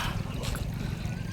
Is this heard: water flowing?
yes